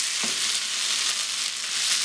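Spicy chicken chilli with tomato sauce stirred in a pan, giving a steady broadband sizzle with a brief scrape near the start, close and fairly loud with no talking.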